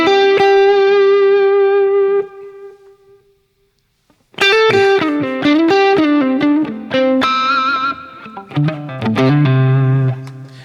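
Electric guitar lines played through reverb and delay effects, a sustained chord ringing out and fading into a short pause, then busier melodic phrases with echoing tails, loud and alone with no voices.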